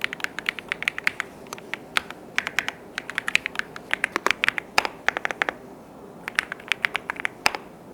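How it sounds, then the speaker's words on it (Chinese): Typing on a K99V2 mechanical keyboard packed with six layers of sound-dampening filling, quick bursts of crisp keystrokes in uneven rhythm with short pauses, close and clear with no talking. "我们可以来对比一下有填充的 K99V2 和无填充的打字音区别"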